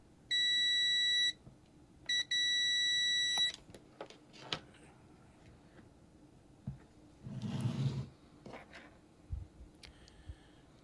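A multimeter sounds sharp electronic continuity beeps while checking an antenna mount, first one sustained tone, then a second longer one, followed by quiet handling clicks and a rustle.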